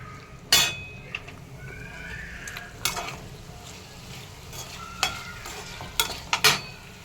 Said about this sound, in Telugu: కొంచెం ముక్క విరక్కుండా గట్టిపడేంత వరకు ఫ్రై చేసుకుందాం.